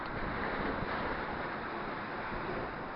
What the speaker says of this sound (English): because the tide's coming in, this is some of the first waves to hit this higher rock here that I'm standing on.